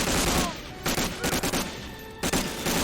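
StG 44 assault rifles fire in bursts in Medal of Honor Allied Assault, with rapid, loud rattling volleys separated by short pauses.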